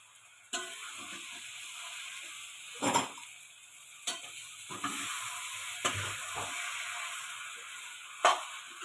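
Poha and potatoes being stirred in a pan, with a low continuous sizzle and a few sharp spoon scrapes and clinks against the metal at irregular intervals; no voices.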